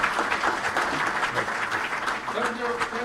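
Audience applause at a ceremony launching the first capital market of the Central Bank of the Gambia: dense, steady clapping from a large crowd throughout, with a brief voice surfacing near the end.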